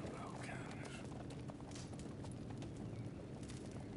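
Horse hooves clip-clop steadily in the Red Dead Redemption video game, a continuous even trot at moderate loudness beneath a dense game soundscape.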